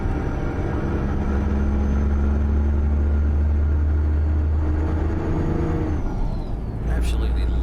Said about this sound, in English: Absolutely loving this sound from Z-Mods Cat C15.